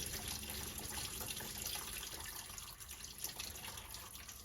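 Engine coolant drains from a GTO during a teardown and splashes onto the starter motor, making a steady, continuous watery trickle and splatter close by with no voices.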